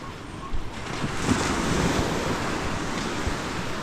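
Sea waves wash steadily on a distant shore, a continuous broadband surf roar mixed with wind noise buffeting the microphone, with no talk over it.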